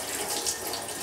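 Tap water runs steadily into a sink while rice is washed for a rice cooker fish rice, a continuous hiss close by with no talking.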